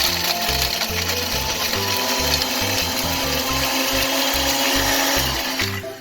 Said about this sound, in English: the rest we're gonna grind up in the grinder